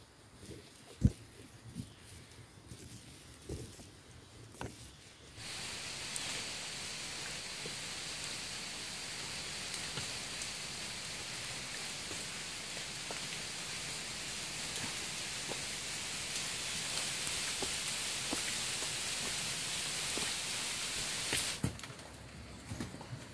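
Rain falls steadily on a forest trail on Mount Salak as a dense, even hiss that starts suddenly, holds for most of the stretch and then stops, with a few scattered drips before it.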